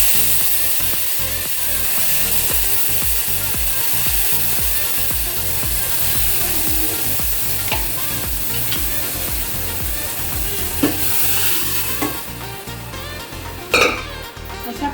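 Dal being tipped into crackling tempering for a fresh green-chilli dal, hissing and bubbling steadily near the mic, with occasional scrapes and clatters of stirring toward the end.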